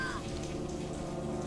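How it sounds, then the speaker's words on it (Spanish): Rain falls outside in a steady, even hiss that holds unbroken throughout, with no voices. "pero vuelve a estar lloviendo"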